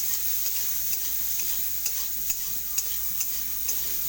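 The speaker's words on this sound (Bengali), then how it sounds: "অল্প হলুদ আর নুন দিয়ে আমি এগুলোকে হালকা করে ভেজে নেবো" Sliced ridge gourd fries gently in a pan with turmeric and salt, a steady soft sizzle with evenly spaced light scrapes and taps of a stirring spoon every half second or so.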